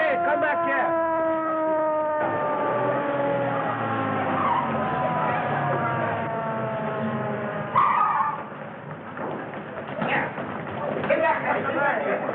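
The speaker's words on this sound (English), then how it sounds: "Ambulance coming." An ambulance approaches with its siren wailing in steady tones, set against car and road noise, with voices talking over it in an early-1930s setting.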